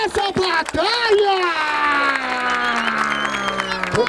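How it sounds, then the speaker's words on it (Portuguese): Crowd cheering and applause at a Brazilian freestyle rap battle final in Barueri, loud and continuous, with a sustained whooping voice rising over the noise throughout. "Palmas pra essa batalha!"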